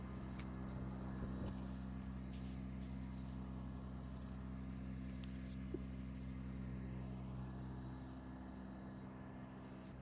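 Septic pump truck running steadily while pumping out an opened septic tank, a continuous low engine and vacuum drone that stays even and moderately loud throughout.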